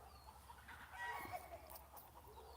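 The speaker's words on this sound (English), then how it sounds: "Chickens are squawking" Farmyard chickens, with a rooster among them, cluck and squawk in a short agitated burst that is moderately close over a steady low background hum.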